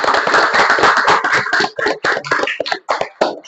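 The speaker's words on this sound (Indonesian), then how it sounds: "Oke, tepuk tangan." A classroom of students claps hands together, loud and close, a brisk burst of many overlapping claps that thins toward the end into scattered individual claps.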